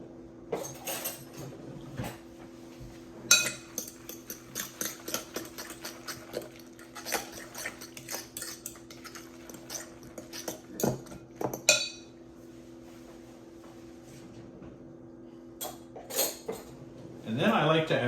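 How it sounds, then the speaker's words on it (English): A raw egg is mixed into zucchini fritter batter in a kitchen bowl, with a utensil clinking and scraping irregularly against the bowl, close up, while someone speaks at times. "And mix that up."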